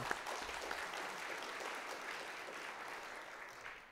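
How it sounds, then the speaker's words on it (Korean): A church congregation gives a big round of applause for the Hosanna choir at a New Year thanksgiving service, dense steady clapping that holds throughout and fades slightly at the end. "한번 큰 박수 보내드리겠습니다"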